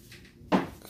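Cabinet door on a smart bed frame handled indoors, a single short knock or clunk of the door against the frame, close and fairly loud against a quiet room.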